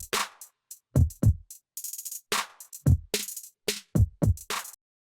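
A solo drum track with no effects, dry and punchy: kick and snare hits alternate with short cymbal and hi-hat bursts in an uneven groove, loud and close with clean gaps between hits.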